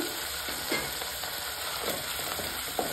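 Ginger garlic paste sizzles in hot oil, a constant close hiss with a few soft stirring scrapes spaced through the short stretch, no voices.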